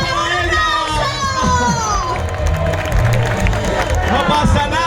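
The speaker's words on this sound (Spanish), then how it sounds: "¡Un aplauso para ella!" Audience at a Horrorland 2021 live horror show bursting into clapping and cheers, a dense crowd wash with shouts and whoops, while a loud voice talks over it.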